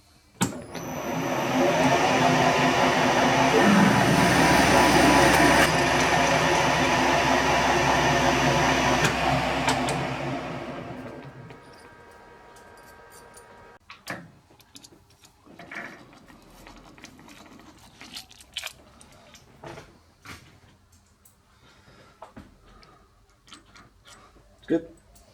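Metal lathe drilling a clearance hole just over 10 mm in a mower blade plate, a loud steady whirring and grinding for about ten seconds that cuts off, followed by quiet clicks and faint handling noises.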